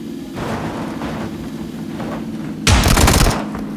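Gunfire in the battle royale video game PUBG: Battlegrounds, a distant crackle of shots over a running vehicle engine, then a louder burst of rapid fire near the end.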